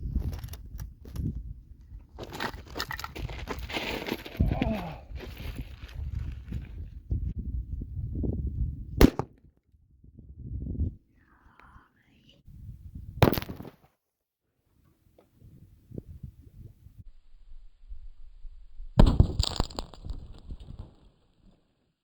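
Rifle shots from a Savage rifle with a 26-inch barrel fired at bottles 75 yards away, Nosler Accubond bullets; several sharp reports stand out, with a broad loud stretch early on and scattered bangs later amid outdoor rumble.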